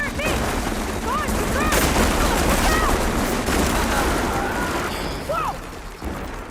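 Enemy fire aimed at Aloy during a machine fight in Horizon Forbidden West: a steady barrage of gunfire-like shots and mechanical bursts with chirping machine sounds over a loud, continuous battle din.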